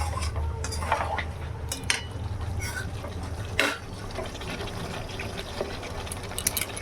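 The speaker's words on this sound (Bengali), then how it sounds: "ক্যাপসিকাম দিয়ে দিচ্ছি" Capsicum pieces tipped into a pan of chilli chicken with fried onion, giving light clatters and soft sizzle over a steady low hum, with a few sharper utensil knocks against the pan.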